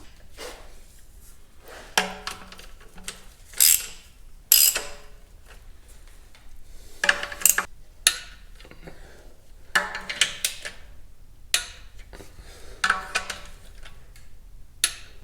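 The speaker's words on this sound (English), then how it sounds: "then we'll finalize it by hitting it with 12 foot-pounds" Torque wrench tightening bolts on a transmission pan, a series of separate ratcheting clicks and short mechanical bursts with quiet gaps between, close by and without speech.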